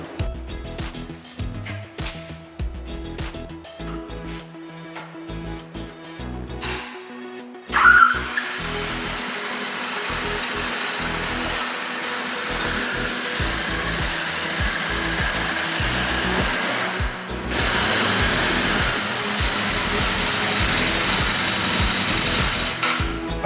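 A motorcycle, just fitted with an overhauled front wheel and hub, is taken on a short test ride; a steady engine and road drone runs throughout and grows louder and brighter partway through.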